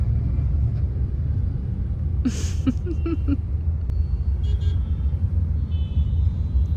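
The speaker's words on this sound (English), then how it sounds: "We are stuck in traffic. Peak traffic." Road traffic at peak hour, a steady low engine rumble from cars and trucks heard from inside a stopped vehicle, with a short burst of brief tones and faint horn-like sounds partway through.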